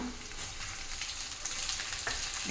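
Spiced lemon pickle with salt and chili powder frying in a pan: a close, steady sizzle with a few stirring scrapes, brief and fairly quiet.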